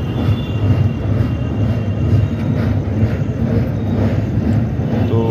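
Inside a crowded moving passenger train travelling to the Prayagraj Maha Kumbh Mela, with a steady, loud rumble and rattle of the carriage heard throughout and no clear talk.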